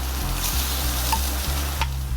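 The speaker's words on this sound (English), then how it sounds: "That sizzle's what you want." A mirepoix of celery, onion and carrot sizzles in a restaurant pan with a steady, close hiss, a few faint clinks rising over it and a low rhythmic kitchen hum underneath.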